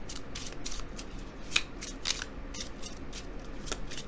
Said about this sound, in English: So let's shuffle this tiny mini deck and draw a few more tarot cards for you